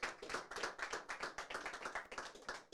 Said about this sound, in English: Big round of applause for Cherno Samba.